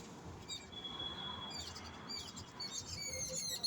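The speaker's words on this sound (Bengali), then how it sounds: "পাখিগুলো কিচির মিচির করেই চলেছে।" Faint, high chirps from several birds drift in from an open plot outdoors beside a wedding pandal, with short tweets scattered over a soft, continuous background hum.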